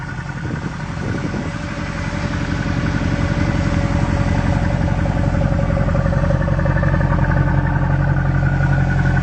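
Exhaust note of a 2014 Mercedes-Benz with polished dual exhaust tips, a steady, deep engine rumble running close and loud throughout, building slightly in the first seconds and then holding an even tone.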